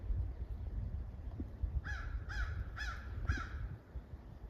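A crow caws four times in a steady, evenly spaced series, clear and fairly close, above a low rumbling outdoor background of wind and stream.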